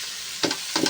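Washed water spinach goes into a hot pan, two short close sizzling bursts over a steady background hiss.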